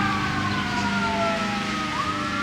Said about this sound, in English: Ignore the sirens.